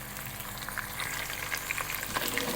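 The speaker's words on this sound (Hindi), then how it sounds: "अब हम इसको अच्छे से भून लेंगे।" Chicken sizzling and frying in a pan with onions, a steady hiss with scattered crackles and pops, plus soft scraping from stirring, close and fairly quiet.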